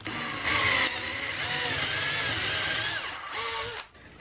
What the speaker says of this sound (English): I'm going to drill through both of these twice